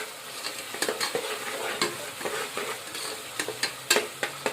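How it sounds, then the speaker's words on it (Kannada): Onions and tomatoes fry in hot oil in a pan, giving a steady close sizzle broken by repeated scraping clinks of a spoon stirring against the metal, with no talking. "ಫುಲ್ಲೆಲ್ಲ ಫ್ರೈ ಆಗ್ಬೇಕ್ರಿ ಚೆಂದಾಗಿ."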